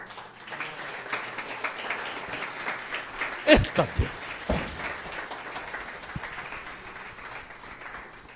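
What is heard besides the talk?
applause in church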